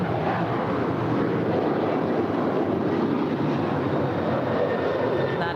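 Alaska Airlines Boeing 737-800, eleven years old, departing LAX runway 25 right: a steady, broad jet-engine roar holds loud and constant throughout, with no voices.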